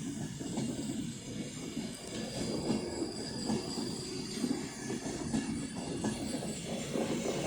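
Electric train named Birmingham Pride passing through Stockport on the West Coast Main Line, coming via Crewe, pantograph sparking, with a steady loud rolling rumble and rail noise throughout, no voices.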